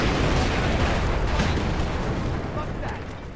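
A grenade goes off in the stealth-action game Splinter Cell Conviction, a loud, sustained rumbling blast that slowly fades over a few seconds, with voices talking over it.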